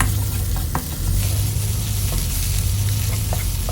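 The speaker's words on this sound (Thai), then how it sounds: "ผัดพริกแกงให้หอมนะครับ" Red curry paste sizzles steadily in hot oil as it is stir-fried for a catfish dish, a continuous close frying hiss with faint stirring scrapes and no talk.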